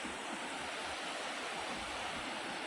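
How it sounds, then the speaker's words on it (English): The Bear River flows through wetlands at around 540 cubic feet per second, a steady, dense rushing of water that holds constant and close with no pauses. "It's just flowing through the wetlands, storing water for our wells, neighbors."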